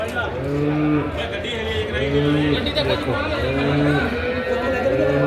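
A Sahiwal cow moos repeatedly in long, low, drawn-out calls while calving at a market in Dabwali, with people talking in the background throughout.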